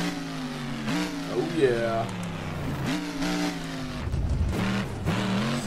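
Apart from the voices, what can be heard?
Max D monster truck engine starting and revving, BeamNG.drive video game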